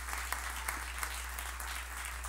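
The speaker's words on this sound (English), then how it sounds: "Just give all of our first-time visitors a hand clap this morning" Church members clap for first-time visitors during a morning service, a thin, scattered round of hand claps with a few sharper individual claps over a steady low hum.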